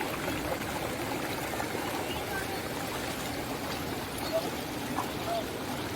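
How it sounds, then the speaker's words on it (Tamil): The river flows over a small secret waterfall near a Shiva temple in Hosur, making a steady, soft rushing wash throughout with no distinct breaks. "தண்ணியோட ஓட்டத்தை பார்க்கலாம்."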